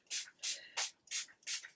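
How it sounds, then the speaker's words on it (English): Five quick, evenly spaced spritzes of water from a small watercolor spray bottle land on a straight bob synthetic wig, close and crisp, with quiet pauses between them. "spray it with water."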